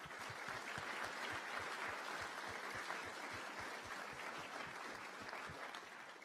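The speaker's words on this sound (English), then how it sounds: "Please give them a big round of applause." Audience at a lacrosse awards ceremony applauding, a sustained, even crowd of clapping hands heard from a slight distance, with no voices over it.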